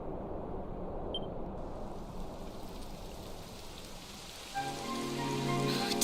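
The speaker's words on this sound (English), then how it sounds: "It would have to go and start raining" Steady rain falls across the landscape in Dragon Quest XI, a dense continuous patter that holds throughout, with soft music swelling in near the end.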